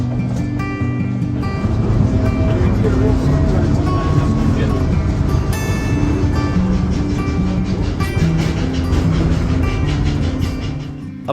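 A K-28 steam train on the Rio Grande line rolls into Silverton, a steady close rumble and clatter of rail cars with faint tonal squeals, continuous and loud throughout while a voice talks over it.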